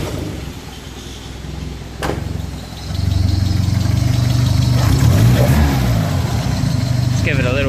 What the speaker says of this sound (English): Just give it a little rev so it settles.